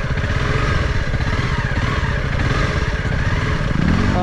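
Adventure motorcycle engine running in first gear on a backcountry trail to thermal pools in Edwards Pass, New Zealand, a steady loud close chugging drone with faint clatter throughout and a slight rev near the end, with no talking.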